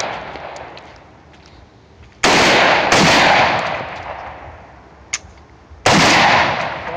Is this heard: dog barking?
no